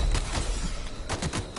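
Rapid gunfire rattles out in a brief sci-fi firefight in The Outer Worlds, with several sharp bursts of shots close by.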